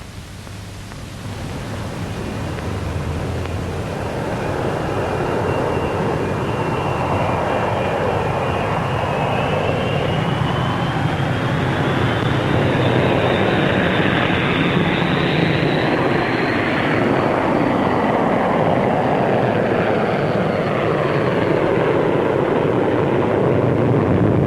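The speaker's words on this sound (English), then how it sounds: "Here we see the first two Vulcans taking the air." Two Avro Vulcan jet bombers taking off and flying at Farnborough, a loud sustained jet roar with a rising then falling whine as they pass, heard through hissy old film sound.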